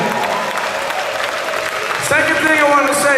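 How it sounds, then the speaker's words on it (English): Audience applause for DJ Hoffman after his set at the Revision 2013 Amiga demoparty, a steady dense wash of clapping with cheering and a voice talking over it, swelling louder near the end. "please, one more time, everybody, applaud for DJ Hoffman and his fucking kick-ass set he did"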